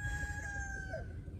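Rooster crowing in a village where chickens are kept on tethers; a drawn-out, steady crow at moderate distance over a low rumbling background.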